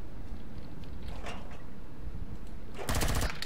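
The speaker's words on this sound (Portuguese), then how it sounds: "Me assustei com meu próprio tiro." Player's own weapon fire in the space survival game Empyrion: Galactic Survival, a sudden loud broadband burst of rapid shots near the end, following a stretch of steady low rumbling ambience.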